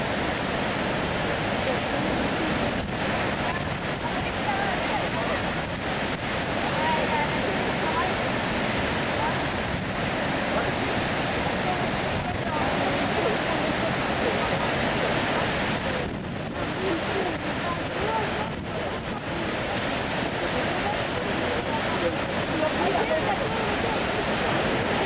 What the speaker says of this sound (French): il y avait de l'eau par-dessus le barrage